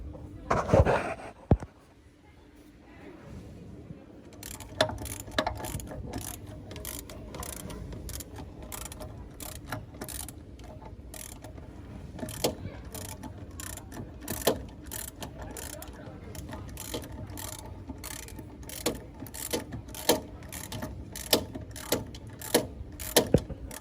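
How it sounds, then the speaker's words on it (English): A ratchet turns bolts on the front axle of a 2015-or-later Chevy Tahoe, sending out long runs of sharp, close clicks in steady bursts, with workshop noise between them. "when I was removing the bolts up top"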